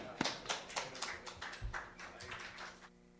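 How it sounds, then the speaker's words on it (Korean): A church congregation rises and claps for the pastor's entrance, producing irregular, fairly faint bursts of hand claps with some chatter in the room. "우리 목사님 나오실 때 여러분 다 기립하셔서 박수를 맞으시기 바랍니다."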